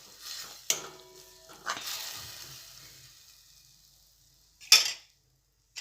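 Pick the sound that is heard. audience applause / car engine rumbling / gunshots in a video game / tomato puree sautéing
tomato puree sautéing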